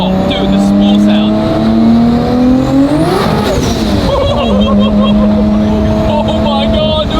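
Turbo spooling on a 1500hp Dart with a 3.2L stroker 2JZ running 40psi, a rising whistle over loud engine roar during a hard pull, up close from inside the car, with excited voices over it.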